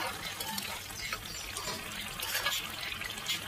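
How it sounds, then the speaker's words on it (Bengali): Koi fish curry boils on a high flame in a pan, giving a steady, close, watery bubbling for a few seconds, with no one speaking. "ঝোলটা ফুটে ফুটে অল্প হয়ে যাচ্ছে"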